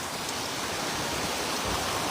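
Steady heavy rain with small hailstones falling, a dense continuous hiss with no voices.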